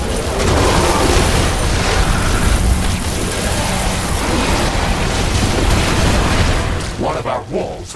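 A building blows apart in The Riftbreaker, a dense, loud, sustained rumbling blast of debris that fills nearly the whole span before tapering off at the end.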